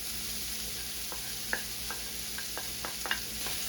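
Garlic and onions sizzling in a pan for a mushroom and wild rice risotto, a steady soft hiss broken by a few faint clinks of stirring, with no talking.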